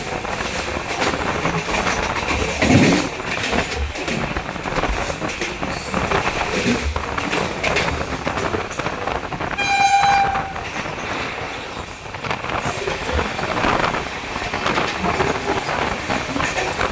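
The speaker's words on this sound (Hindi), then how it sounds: "वंदे भारत है ये, एम्प्टी रैक है ये, खाली रैक था वंदे भारत का।" An empty Vande Bharat rake passes at speed, a steady loud roar of wheels and rushing air with a short horn blast near the middle.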